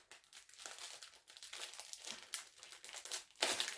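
Snack wrapper crinkled and rustled by hand at close range, a steady run of crackling crunches with a sharper burst near the end, no voices.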